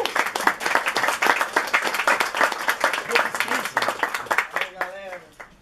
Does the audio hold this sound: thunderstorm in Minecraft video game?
no